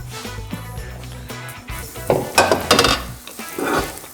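Chopped carrots and onions sizzle in a pan for a mirepoix, a soft steady frying hiss broken by utensil scrapes and clinks against the pan, close and moderately quiet.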